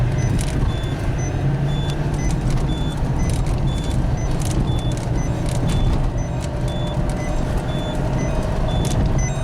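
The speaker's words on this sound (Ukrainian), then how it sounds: "у нас ремінь не присібний, це буде пікати." A Citroen C4's unfastened-seatbelt warning beeps in a steady, regular series of short chimes while the car is driven, heard over continuous road and engine rumble inside the cabin.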